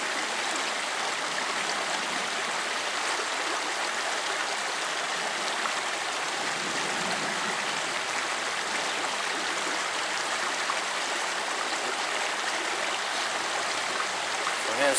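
A river flows in a steady, even wash of moving water close by, unbroken throughout, in a backwoods spot where a trotline is laid out.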